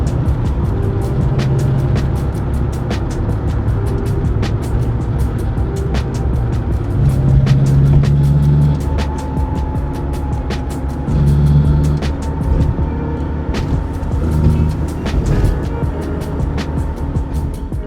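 A broken classic car on the road to a mechanic, its engine droning steadily with road and cabin rumble throughout, swelling a few times as it accelerates, loud and close from inside, with no talking.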